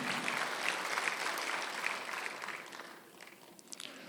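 A church congregation claps together in a sustained burst of applause during a Sunday worship service, gradually fading out and leaving only a few scattered claps at the end.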